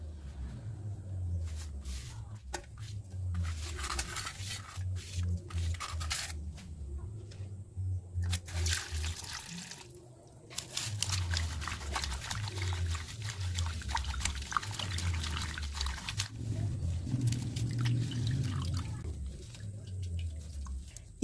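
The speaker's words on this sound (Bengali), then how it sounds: "পাতাগুলিকে ভালো করে বাছাই করে পরিষ্কার জল দিয়ে ধুয়ে নেবেন" Neem and tulsi leaves being rinsed in clean water: a continuous splashing and pouring wash with irregular bursts, fairly close, with no voices.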